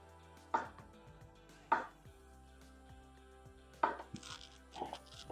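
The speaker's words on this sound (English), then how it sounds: "I'm gonna cut my tomato right in two" A knife cutting through a tomato on a board, four sharp separate chops spaced about a second apart, close and fairly quiet, with no talking.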